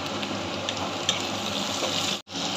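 Chopped onion, garlic and tomato fry in a hot pan with a steady, close sizzle and crackle, faint stirring clicks on top and a brief cut in the sound near the end.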